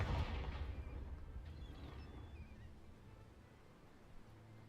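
A Confringo fire spell blasts in Hogwarts Legacy: a loud, booming burst at the start that fades into a long, rumbling decay, with faint crackles trailing off.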